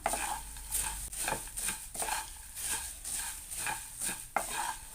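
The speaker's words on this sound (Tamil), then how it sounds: "நம்ம இப்போ இதையும் நல்லா மிக்ஸ் பண்ணி விட்டுக்கலாம்." A spoon scrapes and tosses a spicy puffed rice mixture for kara pori in a pan, making rhythmic, faint rustling and scraping strokes at close range with light metallic clinks. No one speaks.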